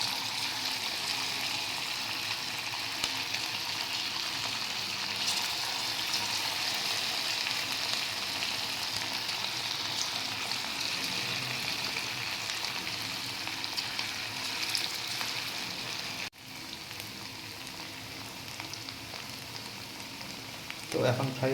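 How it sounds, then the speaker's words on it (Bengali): Chicken pakoras deep frying in hot oil at home, a steady bubbling sizzle held close and fairly quiet, briefly broken by a faint clatter near the end. "এবার আমি ফ্রাই করবো এগুলোকে, চিকেন পকোড়াগুলোকে।"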